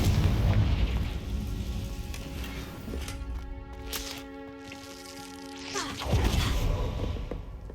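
A Confringo spell blast in Hogwarts Legacy erupts as a loud, booming explosion with crackling fiery debris, followed by a sustained ringing tonal hum and a second burst of rumble near the end.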